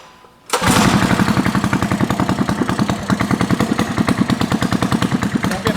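A 420cc race bike engine catches on a pull start after a brief quiet moment, then runs loud and close with a rapid, even, throbbing idle that pulses steadily throughout.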